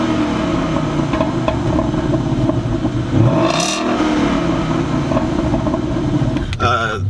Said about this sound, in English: the exhaust, with the newer Mustangs do sound a lot better.